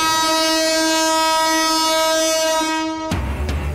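Sustained train horn blares loud and steady with strong harmonic tones for about three seconds, then cuts to rumbling rail noise of a crowded passenger train.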